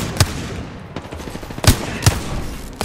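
Gunfire in a video game crackles in sharp single shots and short bursts, with loud close reports standing out over a continuous rough background.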